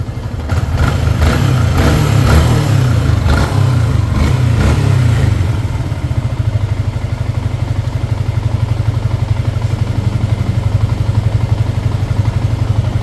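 A Yamaha Sniper 150 motorcycle engine, recently run dry of oil, idles steadily close by with a low, even throbbing, a few rev blips and mechanical clatter in the first seconds before it settles into a constant hum.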